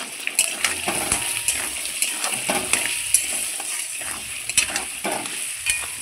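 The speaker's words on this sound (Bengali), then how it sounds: "এই ওলটাও আমি লাল লাল করে সুন্দর করে ভেজে নেব লবণ হলুদ দিয়ে" Chunks of elephant foot yam fry with salt and turmeric in a pan, making a dense close sizzle broken by frequent spatula scrapes and clinks.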